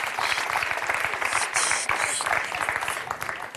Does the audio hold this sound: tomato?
no